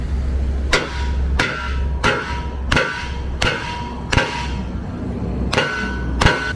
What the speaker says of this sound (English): You can hammer all you want, it ain't gonna work.